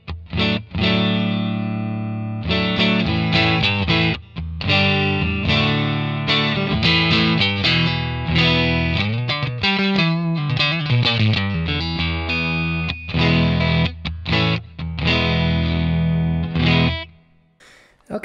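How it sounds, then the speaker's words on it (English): An electric guitar with its pickup set extremely high, nearly touching the strings, plays a loud, driven riff with sustained chords and fast note runs through distortion and effects, ending in a fade. "the pickup is very, very high. In fact, I mean, it's extremely close to actually touching the strings."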